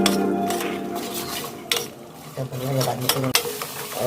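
Wheat flour roasting in a pan for burfi, stirred steadily with a spoon that scrapes and clinks against the metal over a low, continuous sizzle.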